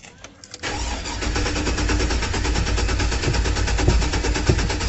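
A 2006 Chevrolet Trailblazer SS with an intermittent no-start fault cranking: after a couple of short clicks the starter engages and churns steadily and loudly in a fast even rhythm without catching, close up with no talking.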